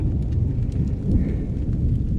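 Rain pouring steadily during a building thunderstorm at an off-grid Karoo homestead, with low rumbling thunder beneath a dense wash of falling drops, continuous and fairly loud.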